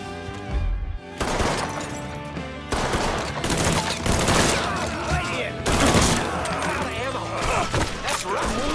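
Heavy bursts of automatic gunfire from Mafia III rattle up close, with sharp shattering impacts and a few pauses between volleys, while a voice speaks over the shooting.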